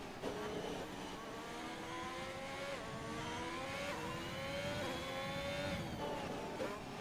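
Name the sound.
F1 race car engine in the video game F1 2021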